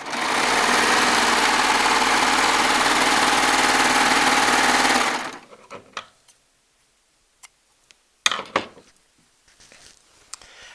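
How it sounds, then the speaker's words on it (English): A Baby Lock Triumph serger sews jelly roll quilt strips, a loud, steady, rapid mechanical hum that runs continuously for about five seconds and then stops, followed by quiet scattered clicks and fabric handling. "Running a serger really is a lot of fun."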